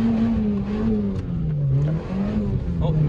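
A Honda Civic two-wheel-drive spins its tires in mud, the engine droning loud and close with wavering revs as the wheels churn; a voice is heard briefly over it.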